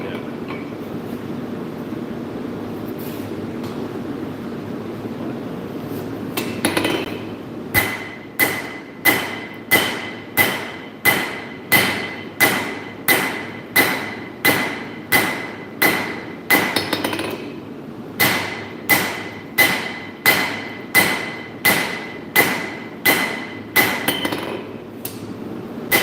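A forging press works hot metal with slow, heavy strikes, a long series of evenly spaced thumps that pause once midway and then resume, loud and close over a low background rumble.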